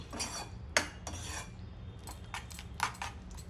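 A utensil steadily stirring and scraping a peanut, sesame seed and besan mixture in a pan on low heat, with repeated metallic scrapes and clinks at an uneven rhythm, close and clear over a low background.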